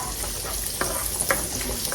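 Garlic and sun-dried tomatoes sizzle and fry in a pan for a Cajun chicken Alfredo, a soft continuous hiss with occasional stirring scrapes and clicks, fairly quiet and close, with no talking.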